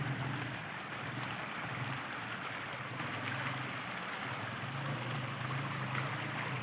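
Heavy rainwater runs across a washed-out road in the Samani valley of Kashmir, a steady, close rushing and gurgling of water that holds at an even level throughout.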